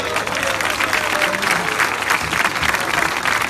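A church congregation in Lislique, La Unión, El Salvador breaks into loud, sustained applause, a dense, close wash of clapping that holds steady throughout.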